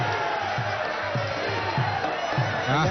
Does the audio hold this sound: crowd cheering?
yes